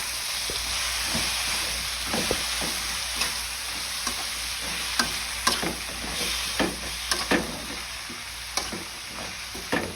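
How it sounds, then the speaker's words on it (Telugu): Amaranth leaves (thotakura) frying in a hot pan with tempering spices, a steady close sizzle broken by repeated scraping clicks of a spoon stirring them. "ఇలా తోటకూర అంతా వేసేసుకొని ఈవెన్గా ఒకసారి కలిపి పెట్టి"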